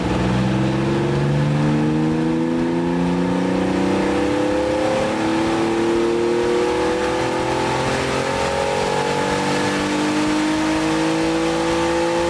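Porsche 997.1 Carrera 2 flat-six engine revving through the gears on a warm test run, loud rising engine notes sweeping up repeatedly with no talking.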